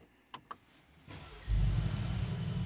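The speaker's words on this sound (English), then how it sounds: "now let's go ahead and start the engine of this, okay? G63 engine" A 2024 Mercedes-AMG G63 4x4² V8 cranks and fires up, a couple of faint clicks first, then a loud, deep rumbling idle that settles in close to the microphone without any talk over it.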